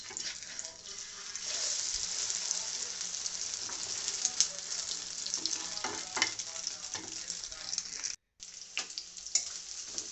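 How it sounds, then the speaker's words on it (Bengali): Onion fries in oil in a wok, sizzling steadily with stirring clatter and some watery splashing, briefly cutting out near the end before the crackle resumes. "কড়াইতে তেল এদিকে তো আমি দিয়ে একটু পেঁয়াজ রান্নাটাও দিয়ে শুরু করে দিয়েছি।"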